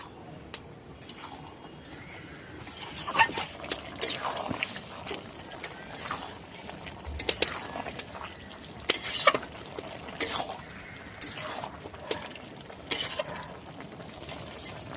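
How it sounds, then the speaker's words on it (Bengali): A lid comes off a pot of spinach, potato and eggplant curry, followed by scattered clinks, scrapes and taps of a spoon stirring the pot, with bursts of metallic clatter. "ঢাকনাটা খুলে নিয়ে নাড়িয়ে দেবো।"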